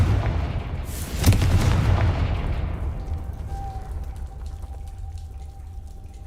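A Confringo blasting curse detonates in Hogwarts Legacy: a single heavy booming explosion with a broad burst, rumbling and fading over several seconds, followed by a thin lingering tone.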